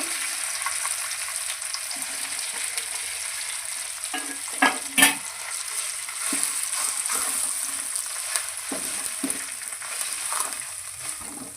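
Fish egg fry with turmeric, ginger and chickpeas being stirred in a pan, a steady soft sizzle broken by several scraping spoon clicks and clatters, close and moderately loud with no talking.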